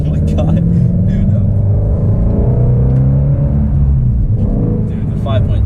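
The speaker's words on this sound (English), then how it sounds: "Those downshifts, oh, the downshifts, oh my god, dude." A Shelby GT350 with its 5.2-litre V8 rumbles through downshifts while driving, the engine note swelling and dipping in a loud, close cabin drone as a voice talks over it.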